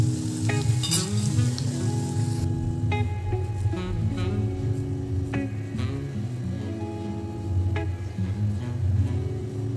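Sabudana vada frying in hot oil, a close continuous sizzle with scattered clinks and taps from a utensil over it; no talk.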